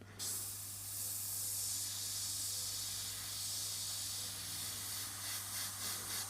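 Steady airbrush hiss sprays paint continuously with a low constant hum underneath, brief pulses near the end.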